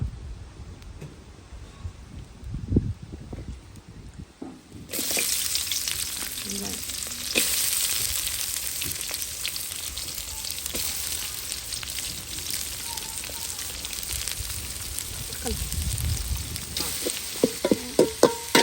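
Onions sauté in a hot frying pan, sizzling steadily after a quieter opening, with occasional stirring scrapes and pops close by.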